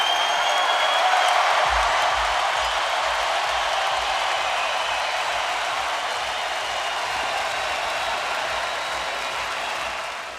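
Inside a boxing arena after the final bell of a Terence Crawford title fight, the crowd gives off a broad, sustained roar that fades slightly toward the end.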